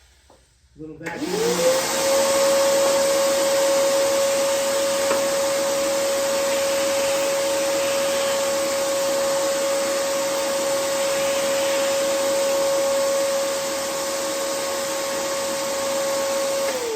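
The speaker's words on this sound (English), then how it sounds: "Little vacuum." A small vacuum cleaner switches on in a woodworking shop during soundboard trimming, then runs with a steady, fairly loud whine and airy hiss that continue unchanged to the end.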